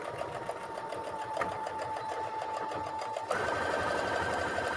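Sewing machine stitching fabric while quilting a patchwork of scraps and old blue jeans, a steady close motor whir with fine rapid needle clatter that changes pitch near the end as the speed shifts.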